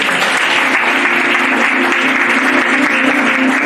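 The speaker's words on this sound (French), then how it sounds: "Est-ce qu'on peut acclamer ça?" A church congregation at a Sunday thanksgiving service breaks into loud, sustained applause, dense and even throughout with a faint cheer of voices underneath.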